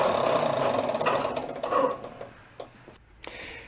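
Screws being tightened on an upturned lawn mower deck, a run of quick metallic ticking and ratcheting clicks from a hand tool, close up, slowing into a few separate clicks with short gaps.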